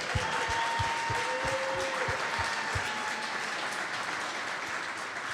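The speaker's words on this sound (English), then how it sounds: "give them a big Clubhouse Live round of applause again." A crowd applauds with steady, dense clapping that holds at an even level for the whole stretch, with no voices rising above it.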